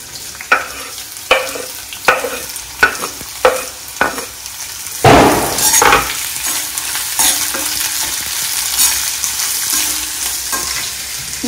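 Onions frying in hot oil for paneer biryani, a series of sharp spluttering pops and stirring scrapes at regular intervals, then a louder rush of sizzle as more goes in, settling into a steady crackling fry.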